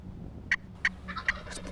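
A wild turkey gobbler calls close by at sunset, sending out three sharp, rattling gobbles about a third of a second apart, with fainter answering calls trailing after, over a low background hum.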